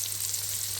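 Apple pieces and shiitake mushrooms sauté in a Tefal nonstick pan, a steady bright sizzle with a constant low hum beneath, close and continuous with no talking.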